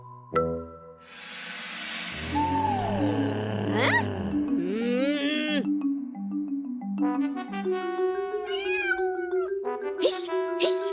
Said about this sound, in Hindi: अरे भाग कलूटी बिल्ली।